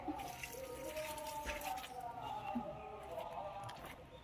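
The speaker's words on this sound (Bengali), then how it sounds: "এখন জল দেবো এই গাছগুলোতে।" Water is poured onto potted plants, a steady close trickle and splash of liquid running into soil, with faint background voices.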